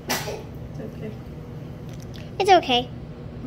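A single sharp sneeze bursts out at the start during a spicy noodle challenge, followed by a brief throat sound and a voice speaking a few words near the end.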